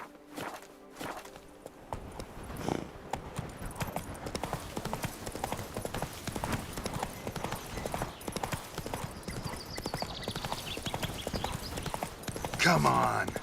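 Horse hooves clip-clop at a steady gallop in The Witcher 3, a continuous rhythmic patter of hoofbeats close up, running the whole time with a brief neigh near the end.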